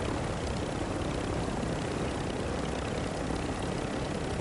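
Video game helicopter roaring continuously, a loud, close, even wash of rotor and engine noise with no speech over it.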